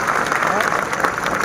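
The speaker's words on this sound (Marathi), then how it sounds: "जोरदार टाळ्या वाजवून त्यांचं या ठिकाणी स्वागत करूया." Applause welcoming cabinet minister Aditi Tatkare at the Akhil Maharashtra sculptors' convention, a continuous crowd clatter that stays steady throughout with some voices mixed in.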